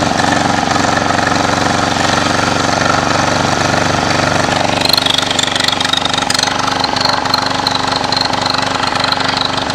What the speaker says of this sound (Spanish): Vamos a acelerar el motor.